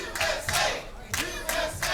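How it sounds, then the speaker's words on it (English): Wrestling crowd at an independent show chanting USA in rhythmic bursts, loud massed voices rising and falling with short pauses between chants. "This crowd getting fully behind Will McGuire with a USA chant"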